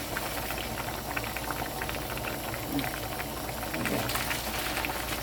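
Pork backbone and potato stew (gamjatang) bubbling steadily in a pot, a continuous close, moderate simmer without speech.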